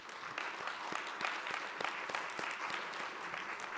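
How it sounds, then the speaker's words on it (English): Steady applause from an audience at a college stage dedication, a brief continuous patter of many hands with a few sharper individual claps standing out. "Please join me in applauding this gesture."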